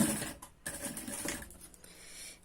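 A sewing machine runs in short bursts, stitching piping along the edge of a bag pocket tab, quiet and close, its whirring starting and stopping with brief pauses and no voices.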